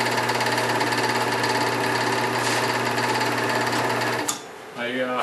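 A homemade wire wheel table's electric motor and belt pulley run steadily with a loud, continuous mechanical hum and rattle, the pulley's set screw loose, before the whir cuts out and a faint high whine winds down near the end.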